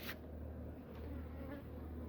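Honeybees buzz inside a hive that may have a drone-laying queen or laying workers. The hum is steady, dense and continuous, quiet but close, with no talking.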